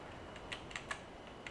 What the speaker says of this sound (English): I'm switching to keyboard because it's a lot easier to do on keyboard.